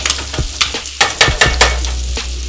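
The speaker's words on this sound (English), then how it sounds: "Now we're gonna add our garlic to these string beans" Garlic sizzles and fries with string beans in a hot pan, a steady loud crackle broken by several sharp stirring scrapes and clatters.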